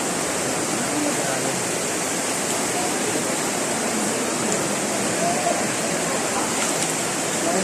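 Madlum River water rushes steadily and loudly, a continuous broadband roar close by with no break; faint voices may sit beneath it.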